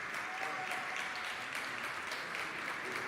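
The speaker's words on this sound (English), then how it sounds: "Please give a round of applause for Stephen and Jackie" A crowd applauds at the grand reopening of a park swimming pool, a steady, moderately distant patter of many hands clapping that carries evenly from start to finish.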